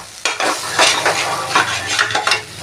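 Taro root pieces fry with masala and tomato in oil in a pan, a steady sizzle broken by repeated scraping stirs of a metal spoon against the pan, close and loud, with no talk.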